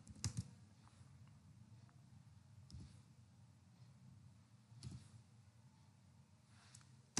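Keyboard typing while writing JavaScript code, a quiet steady patter of key clicks with a few sharper louder strokes near the start and around the middle.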